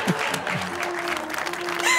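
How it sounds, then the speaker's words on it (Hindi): Studio audience applause on a television talk show, a short burst of clapping with a voice faintly over it near the start. "तालियां।"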